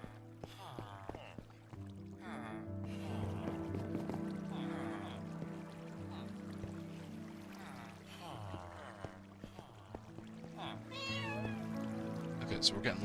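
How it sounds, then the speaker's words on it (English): Cats meow repeatedly in the Minecraft video game, several short mews overlapping with game background music and someone talking throughout. "we're getting lots of cats for some reason"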